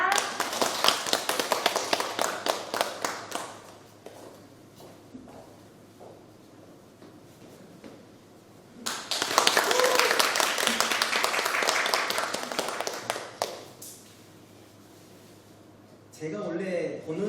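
An audience at a youth book concert in Haenam breaks into two long bursts of loud applause, separated by a quieter stretch, with a voice speaking at the end.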